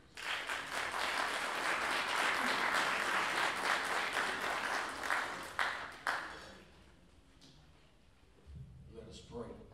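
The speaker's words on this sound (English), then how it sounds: "Give him a round of applause." Audience applause at a university jazz band homecoming concert, a dense burst of clapping that fills the first six seconds and then thins out and dies away, with a few scattered claps and a murmur of voices afterward.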